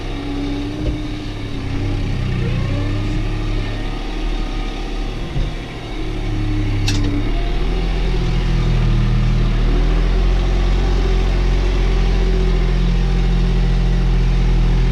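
New Holland TT4.65 tractor pulling a cultivator through field soil, a steady, loud low engine drone running continuously with slight load changes and no talk.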